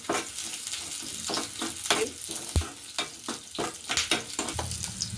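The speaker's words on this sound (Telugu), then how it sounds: "బిర్యానీ ఆకు ఇప్పుడు యాడ్ చేసుకున్నాను" A bay leaf frying in hot oil with garlic and ginger in a pan for veg kuska, giving a soft continuous sizzle broken by a few stirring scrapes, close and fairly quiet.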